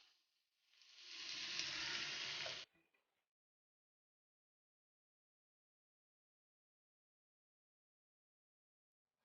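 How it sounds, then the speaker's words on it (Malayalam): Two cut tomatoes dropped into hot oil in a pan while cooking a Kerala-style prawn biryani, a loud bright sizzle lasting about two seconds and then cutting off into silence. "നമുക്കിനി ഇതിലേക്ക് തക്കാളി ഇട്ട് ചേർത്ത് കൊടുക്കണം."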